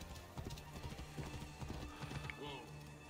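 Hooves clip-clop in quick succession on a horse in Assassin's Creed, set against a dense game soundscape with a voice talking over it and a brief whinny near the end.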